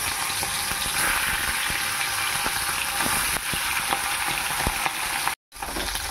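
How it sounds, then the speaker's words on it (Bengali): Koi fish fry in hot oil in a wok, a loud, continuous close sizzle with scattered pops and a brief cut near the end, no voices. "তেল গরম হয়ে গেছে। প্রথমে আমি মাছগুলো ভেজে নেব।"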